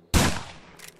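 A single gunshot in the game Survive the Nights, a sharp loud crack with a fading tail, close and alone.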